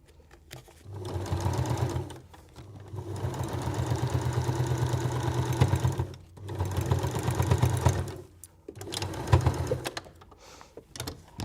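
A domestic sewing machine stitches through grabby oilcloth for a reusable sandwich bag, running in four close, loud bursts of rapid whirring with brief pauses between them.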